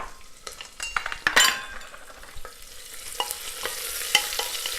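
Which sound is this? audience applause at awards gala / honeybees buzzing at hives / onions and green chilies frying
onions and green chilies frying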